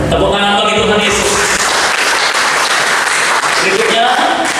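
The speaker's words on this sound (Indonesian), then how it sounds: "Tepuk tangan bagi Tuhan Yesus." Congregation applauding during a Sunday church service, a steady dense wash of clapping lasting a few seconds, with voices and talk mixed in over it.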